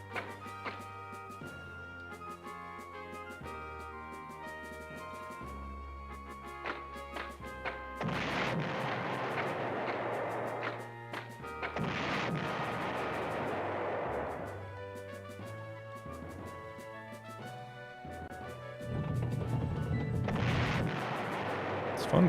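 Artillery fire in the PlayStation 1 war strategy game Panzer General, with bursts of crashing impacts and booms over a continuous game music score, louder clusters toward the middle and end.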